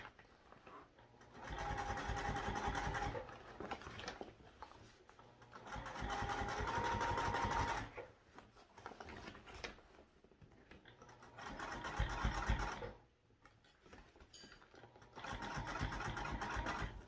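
A sewing machine stitching a seam, running in three distinct bursts of rapid mechanical whirring with quiet pauses between them, close and fairly faint.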